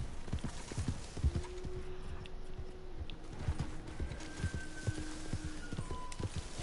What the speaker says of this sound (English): it's not ideal to run around with a horse to find game to hunt